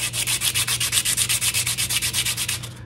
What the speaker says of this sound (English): with some 100 grit sandpaper on it and just do it by hand until we get a perfect fit